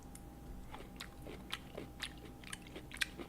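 Someone eats udon noodles with carrots and something crunchy, giving close, quiet bites and crunchy chewing clicks in an irregular rhythm against a low background hum.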